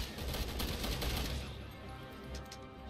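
Loud, rapid gunfire from the video game Resident Evil 6 pounds in dense, continuous bursts, then fades into a rumbling, echoing tail.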